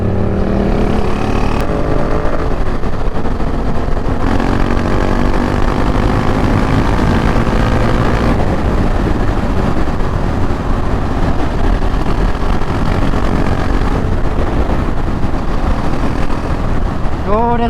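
Several motorcycles, among them a Yamaha MT-07, KTM 690 Duke R and GSXR 750 with Akrapovic exhausts, ride past on a road, loud engine roar rising and falling continuously, with excited talk from riders heard over the noise.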